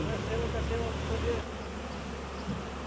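A honey bee swarm in Albania gives a steady, dense buzzing that holds throughout, with faint voices in the background.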